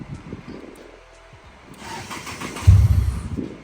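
A 1990s Toyota Corolla engine, started by push-button, cranks and catches, then runs with a low rumble near the end of the clip, with no talking.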